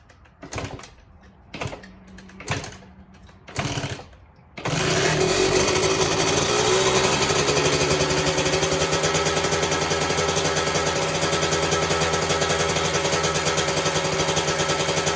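Kawasaki KX125 two-stroke dirt bike on a cold start after sitting a week in a garage: a few short kick attempts, then the engine catches and holds a loud, raspy, steady idle up close.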